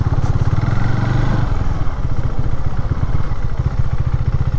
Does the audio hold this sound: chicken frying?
no